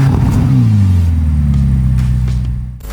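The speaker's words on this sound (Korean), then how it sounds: "배기음도 매력적입니다." A 1000-horsepower hybrid Ferrari convertible revs its engine, a loud, close exhaust blare that sweeps up in pitch then falls away, ending in a quick fade.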